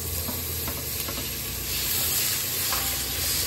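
Tomatoes go into a hot, sizzling pan while healthy oats are cooked: a steady, close frying hiss with light stirring scrapes, swelling slightly louder about halfway through, with no voices.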